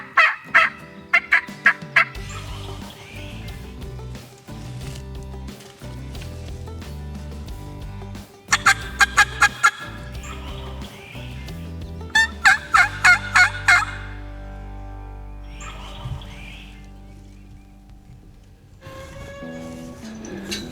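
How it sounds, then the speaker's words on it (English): Wild turkeys gobble in loud, rattling bursts at several points, some sharp and near and others softer, against an otherwise quiet outdoor background. "our first yelp got a gobble way down that direction, and they gobbled twice"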